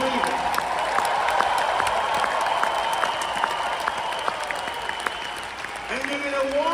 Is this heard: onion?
no